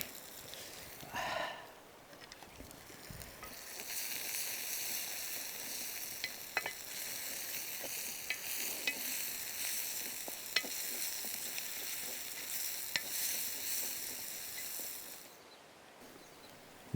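Onion, ginger, garlic and dried chili fry in sesame oil on a hot stone at an outdoor wild kitchen, giving a steady crackling sizzle with occasional stirring clicks.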